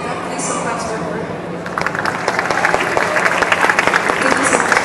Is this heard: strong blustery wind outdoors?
no